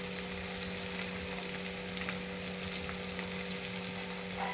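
Onions frying in a pan, a steady dense sizzle with a faint hum underneath, close and continuous without talk.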